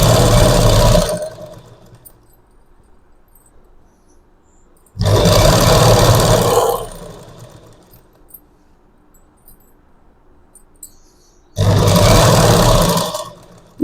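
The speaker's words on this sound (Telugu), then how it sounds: "మనం ఇలా అడ్జస్ట్ చేసుకుంటూ కుట్టుకోవాలి." A sewing machine stitches neck piping onto cloth in three loud bursts, each lasting one to two seconds, separated by quiet pauses while the fabric is adjusted.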